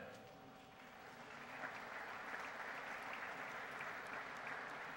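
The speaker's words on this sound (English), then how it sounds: "And one more round of applause for Harrison Dillard." Audience applause at a collegiate athlete hall of fame induction ceremony, a dense, even wash of clapping from a large crowd held steady throughout, heard alone without talk.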